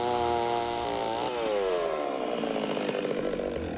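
Chainsaw running steadily close by and cutting wood, engine pitch dropping and then rising as the chain bites, loud and continuous with no talk over it.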